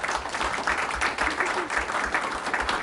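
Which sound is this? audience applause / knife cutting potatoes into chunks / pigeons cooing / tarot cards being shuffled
audience applause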